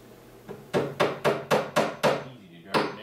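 A hammer drives a small nail into plywood with seven sharp, evenly spaced strikes, close and fairly loud, with a short pause before the last blow.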